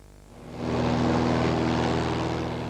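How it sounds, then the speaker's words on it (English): A Cessna seaplane swells into a loud propeller drone overhead above Surfers Paradise on the Gold Coast, with a strong steady engine hum close by. "the Cessna Seaplanes cruising the skies over surfers' paradise"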